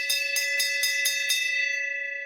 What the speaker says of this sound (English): Let me hear that bell.